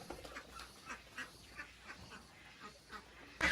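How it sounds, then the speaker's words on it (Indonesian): Ducks at a duck farm quack in a steady run of short, repeated calls, fairly close, over a noisy outdoor background with no talking. "beternak bebek juga menarik bagi Napi"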